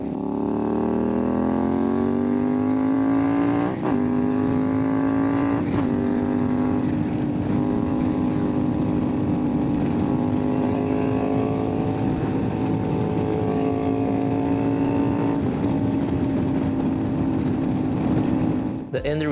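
A CFMOTO 450MT motorcycle with a remapped ECU accelerates hard through several gears, the engine note climbing steadily with brief dips at each shift, loud and continuous with wind rush and no talking.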